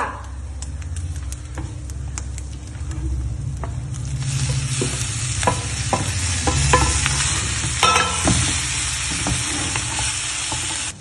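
Grated coconut, sugar and banana stirred in a pan, the utensil scraping and clacking in a steady irregular rhythm over a continuous frying sizzle that grows brighter midway, close and alone without talk.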